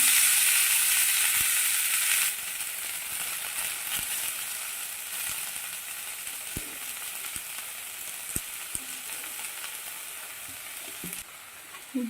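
Colocasia leaves hiss loudly as they hit hot oil with popped mustard seeds, the sizzle settling to a steady fry with occasional scrapes and taps of stirring.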